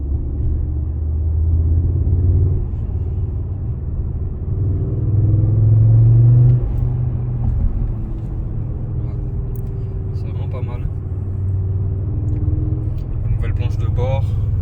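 A turbocharged Audi RS3 8Y engine drones steadily while driving, with a deep rumble that swells briefly and a voice talking over it.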